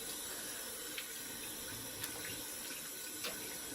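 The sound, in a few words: tap water running while rinsing during shave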